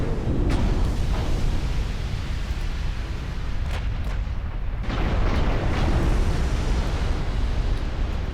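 Deep booming explosions and artillery-like blasts roll through a naval battle in a video game as a battleship goes down, dense and loud throughout with sharper bursts punctuating the rumble.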